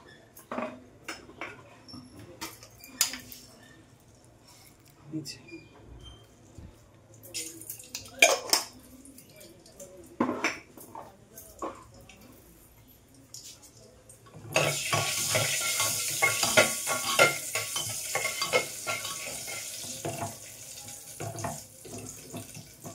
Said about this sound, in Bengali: এর মধ্যে দেবো গোটা গরম মশলা ফোড়ন।